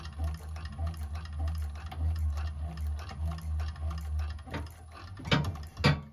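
A 1341 cylinder arm sewing machine runs steadily while stitching a bag, a close, even mechanical hum with rapid needle ticks, ending in a few louder clunks as it slows and stops.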